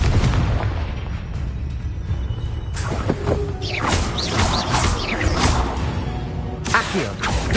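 A Confringo blasting spell going off in Hogwarts Legacy, a loud explosive boom with crackling debris and mechanical rumble, followed by further sharp bursts and crashes in a noisy combat scene, with no voices heard.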